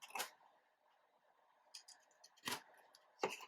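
Scissors snip paper while trimming a spine section for a farmhouse Christmas mini album, three short crisp cuts close by in a quiet room, one near the start and two near the end.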